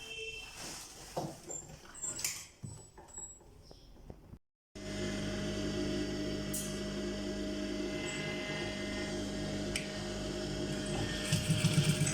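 Sewing machine stitching a decorative neck design on a garment, a steady continuous mechanical whir running for most of the stretch after a brief pause, preceded by lighter handling noises.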